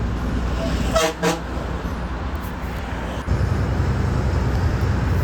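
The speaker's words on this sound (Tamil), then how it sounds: "இப்போ நீங்கள் கேட்குறது சிட்டி ஹார்னு சைடில் வந்து ஏர் ஹார்ன் இருக்குங்க" Two short honks of a BS-6 lorry's air horn sound over a steady engine rumble and road noise, followed later by a brief click.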